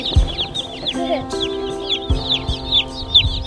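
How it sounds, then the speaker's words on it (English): Newly hatched chicks delivered by mail cheeping in a box, a dense run of high, rapid peeps close by, continuous throughout with a few low knocks and brief tones underneath. "The chicks are coming back and forth."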